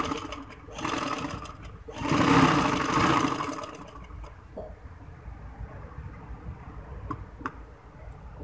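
A sewing machine stitches a handkerchief-cut frock in a couple of quick whirring bursts, then falls quiet except for faint ticks and clicks; close by, with no speech.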